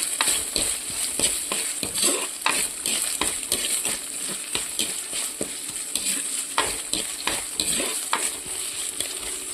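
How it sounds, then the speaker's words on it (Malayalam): Ginger, garlic, curry leaves and kudampuli sauté in a pan for Kottayam fish curry, giving a steady sizzle broken by frequent spoon scrapes and taps against the pan, with no voices. "നമ്മൾ വഴറ്റി കൊടുക്കുകയാണ്. ഇഞ്ചി, വെളുത്തുള്ളി, കരിയാപ്പില, കുടംപുളി"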